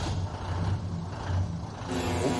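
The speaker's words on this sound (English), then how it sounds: "that sounds like a truck" A large truck rumbles with a low engine drone while faint, steady reversing beeps repeat in the background, sounding like a wrestler's entrance theme rather than a real street, with no talking.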